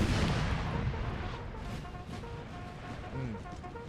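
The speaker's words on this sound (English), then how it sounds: "The howitzers are still punishing these units." Howitzer artillery in a Napoleonic Total War battle booms in a dense, continuous barrage, heavy low rumble from overlapping shots rolling on throughout with distant crackle and a faint voice underneath.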